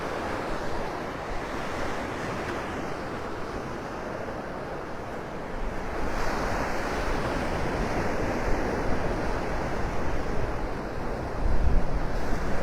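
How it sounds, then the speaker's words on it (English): Ocean surf rolling onto the beach at Pelican Bay in North Naples, Florida on a morning walk, a continuous wash of breaking waves with wind buffeting the microphone, swelling louder in the second half, and no voices. "Some waves stirring things up."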